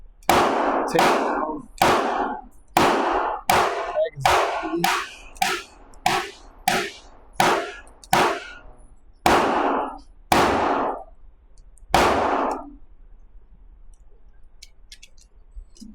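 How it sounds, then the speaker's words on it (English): A Stoeger STR-9 pistol fires Monarch 115 grain ammunition outdoors. About fourteen sharp, loud cracks ring out in an irregular string, some in quick pairs, each with a brief ringing tail, then quiet. "I'm shooting this Monarch 115 grain."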